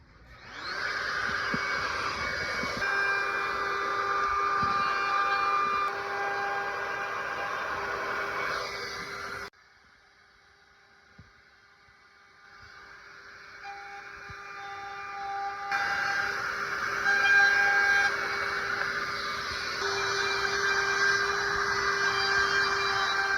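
A router cuts aluminum composite material for an awning, a loud, steady high whine that runs for several seconds, stops for a quiet stretch, then winds back up and carries on to the end.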